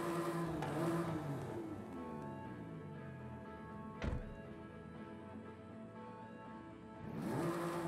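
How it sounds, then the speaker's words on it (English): A video game car engine in Forza Horizon 5 drones steadily with shifting pitch, rising and falling through gear changes, with a sharp thump midway and a surge of revving near the end. "So now I will let you quickly take a listen to how the car sounds"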